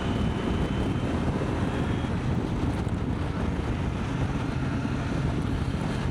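Strong crosswind blows across an open mountain landscape in the northern Pindus, roaring steadily as buffeting gusts rumble on the microphone throughout, with no talk.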